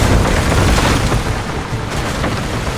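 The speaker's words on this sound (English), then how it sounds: "A bomb!" A bomb goes off in a cutscene of Assassin's Creed Revelations, a loud, dense low rumble that rolls on steadily for nearly three seconds with no distinct onset, with no talk over it.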